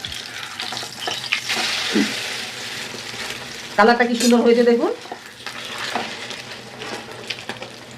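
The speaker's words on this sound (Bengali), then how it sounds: "এই সাইডটা বেশি ভাজবো না, কুসুমটা হাফ ভাজা থাকবে।" Maggi paratha topped with an egg fries in a pan, a soft steady sizzle running throughout with a brief louder burst of spatter midway, while a person talks over it.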